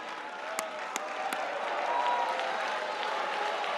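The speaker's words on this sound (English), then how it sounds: "I'm tagging this clap, this applause, this appreciation" A church congregation applauds during a sermon, a broad, steady wash of many hands clapping at a distance, with a few sharper claps standing out near the start.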